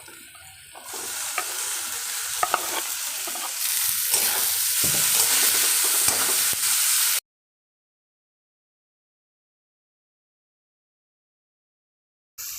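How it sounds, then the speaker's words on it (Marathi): Onion and tomato fry in a pan for dal kanda bhaji while being stirred, a steady close sizzle with scraping strokes that grows louder midway, then stops abruptly into silence before a brief return at the end. "आपला कांदा टोमॅटो आता भाजत आलेला आहे।"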